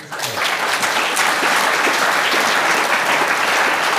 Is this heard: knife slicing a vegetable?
no